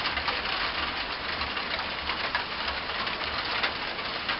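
Freezing rain falling outdoors on a cold, foggy day, a steady dense hiss of drops that goes on without a break, with a low hum in the background and no talking.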